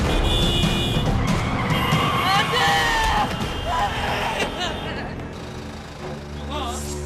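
A car skids at a crosswalk just before hitting a pedestrian: a loud, close tire screech with rising squealing tones over engine and crowd noise, fading toward the end, with voices present.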